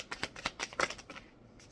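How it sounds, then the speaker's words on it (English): Cards riffled and bridged in a short burst of quick, crisp flutters, close by and fairly quiet, with no talking. "Last shuffle."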